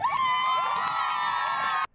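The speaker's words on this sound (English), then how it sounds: "Guys, take us out with the cheer." Mitty Monarchs high school team shouting their cheer together in unison, a loud sustained group yell from many young voices lasting nearly two seconds before cutting off abruptly.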